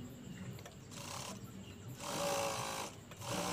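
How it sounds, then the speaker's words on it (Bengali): An electric sewing machine stitches a garment sleeve in short runs, with a fast, buzzing mechanical whir that starts and stops in bursts, heard fairly close in a quiet room. "সর্বপ্রথমে আমরা একটি করে সেলাই দিয়ে নেব।"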